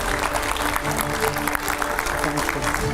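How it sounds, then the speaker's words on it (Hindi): Studio audience at TV9 Bharatvarsh applauding to welcome Arvind Kejriwal, a steady, dense wash of clapping that holds loud throughout with faint tonal sounds woven in. "जोरदार तालियों से स्वागत करिए टीवी 9 के स्टूडियो में अपनी आर्मी के साथ मौजूद हैं अरविंद केजरीवाल"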